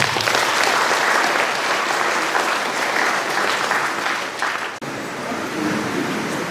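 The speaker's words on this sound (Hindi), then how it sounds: "उनके लिए भी हम जोरदार ताली बजा देते हैं" A parish congregation at a feast-day church celebration claps loudly in welcome of visiting sisters, a sustained dense ovation that dips briefly near the end before resuming slightly softer.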